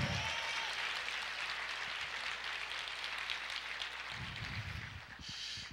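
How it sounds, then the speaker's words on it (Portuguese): A church congregation applauds in a steady, faint patter that runs throughout, with a brief murmur of voices near the end. "Você pode aplaudir o Senhor e dizer amém."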